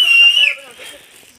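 One loud, sharp human whistle rings out as a signal in a forest, a high sustained tone that slides and fades over about a second, heard alone and close.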